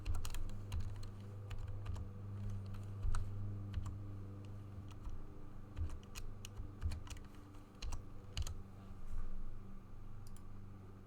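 Fingers type a password on a computer keyboard, producing a quiet, uneven run of light plastic key clicks with short pauses and no talking.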